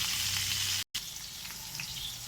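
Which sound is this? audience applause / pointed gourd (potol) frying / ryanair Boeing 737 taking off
pointed gourd (potol) frying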